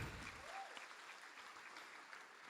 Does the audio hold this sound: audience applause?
yes